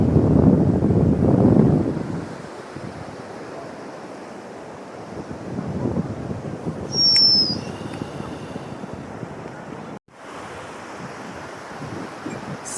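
Surf rolling onto Suryalanka beach in Bapatla, Andhra Pradesh, with steady wind buffeting the microphone; swells build louder at the start and again midway, and a brief faint high whistle cuts through once.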